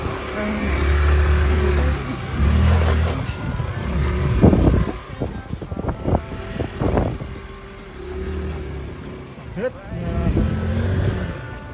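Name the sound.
Hero Xoom and Xtreme 125R motorbikes on rough mountain road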